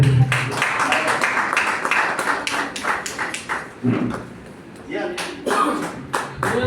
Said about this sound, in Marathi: टाळ्या जोरदार झाल्या पाहिजे